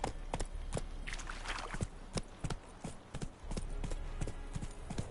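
Horse hooves clip-clop on the ground in the video game The Witcher 3: Wild Hunt, an uneven run of sharp, moderately loud hoof strikes over a low ambient background.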